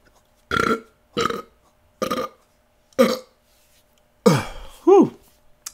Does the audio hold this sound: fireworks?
no